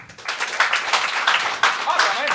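Audience at a Quebec comedy game show bursts into dense applause and clapping, a steady wash of many hands filling the room with a few louder surges.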